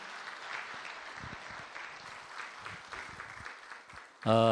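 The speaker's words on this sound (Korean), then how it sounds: "우리 시온 성가대 박수 한번 해주시기 바랍니다." A church congregation applauds its Zion choir during a Sunday service, a moderate spread of clapping hands in a large room that fades and thins out before a short burst of other sound at the end.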